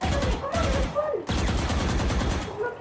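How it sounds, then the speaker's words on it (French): Rapid bursts of Vandal rifle fire in Valorant, loud and close, with a short gap between volleys and a voice talking over the shots. "Et Vandal, ça tire à travers les murs."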